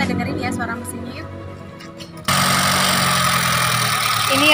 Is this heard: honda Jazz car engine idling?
yes